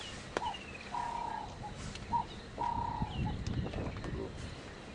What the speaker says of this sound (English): Oh, it's a redback shrike.